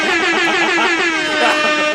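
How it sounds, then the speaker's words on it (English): A loud, sustained buzzing horn blast with a steady low tone and dense harsh overtones, holding for about two seconds without a break. "This nigga will not give me an air horn when I say something"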